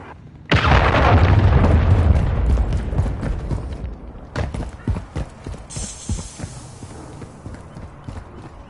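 A cruise missile strike in the video game Modern Warfare 3 detonates with a loud, sudden roaring blast that lasts a couple of seconds, followed by a string of sharper thuds and crackling impacts that trail off.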